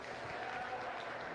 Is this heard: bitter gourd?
no